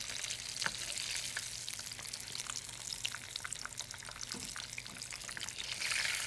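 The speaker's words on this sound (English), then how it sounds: "So I'm cooking in grapeseed oil, which is one of my favorite oils for frying" Mozzarella fries in grapeseed oil with a steady, close crackling sizzle and scattered pops that continue unbroken.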